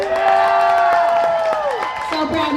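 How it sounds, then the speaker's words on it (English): A crowd at a Port Angeles demolition derby heat cheers, whoops and applauds loudly and continuously, with sustained shrill tones riding over the noise and some voices mixed in. "Let's get a big round of applause for these young men."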